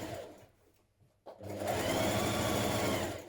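Sewing machine stitching a trouser side seam: a faint lead-in, a sharp tap, then a loud, steady run of fast mechanical stitching that carries to the end.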